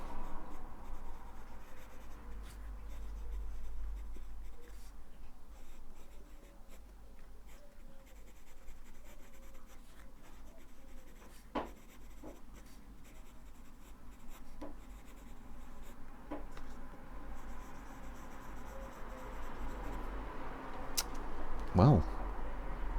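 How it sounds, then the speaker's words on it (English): A Faber-Castell Fresh fountain pen writes on paper, with soft continuous scratching strokes broken by a few sharper ticks and short pauses, close and quiet throughout. "So let's do the writing sample."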